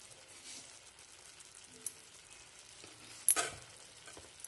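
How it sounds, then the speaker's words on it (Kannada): Tomato gojju simmering slowly in a pan over a low flame, a faint steady sizzle with soft bubbling and one brief louder stir or clatter near the end. "ನಿಧಾನವಾಗಿ ಸಣ್ಣ ಉರಿಯಲ್ಲಿ ಇದು ನೀಟಾಗಿ ಬೇಯಲಿ"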